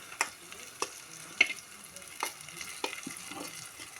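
Okra (ladies finger) being stirred in a hot pan, with soft scraping strokes and faint crackling sizzle at an irregular rhythm, quiet and close with no talking.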